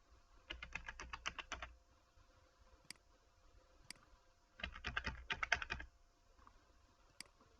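Computer keyboard typing into an input field in a program, two dense bursts of rapid close key clicks with a few isolated single taps between them, no talk.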